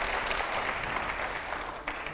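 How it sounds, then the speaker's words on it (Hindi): A studio audience on a TV9 talk show claps in a short, lively burst, the dense applause fading slightly toward the end. "पहले जोरदार तालियां हो, हर जवाब के बाद तालियां होनी चाहिए"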